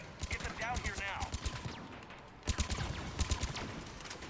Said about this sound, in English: Oh yeah, I'm shooting at her.